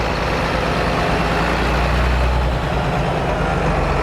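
A John Deere 720 two-cylinder farm tractor idles at low RPM, giving a steady, deep low rumble that holds evenly throughout at close range with no talk.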